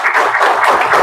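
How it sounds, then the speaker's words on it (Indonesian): Classroom of students breaking into brief applause for a group, a dense, loud burst of close clapping lasting about a second with no talk over it. "Tepuk tangan untuk kelompok 2."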